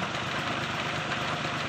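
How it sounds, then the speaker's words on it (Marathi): A tractor engine runs steadily while hooked to a pesticide sprayer over marigold fields, a dense, constant mechanical roar with no breaks, loud and close. "आपलं ट्रॅक्टर चालू आहे, ट्रॅक्टर आपण जोडले, त्याचे औषध मारतो"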